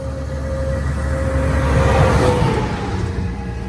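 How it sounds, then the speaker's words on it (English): A truck approaching and passing on a road beside a pond, its engine rumble rising to a peak midway and then fading, heard alone without talk. "And there's a truck coming."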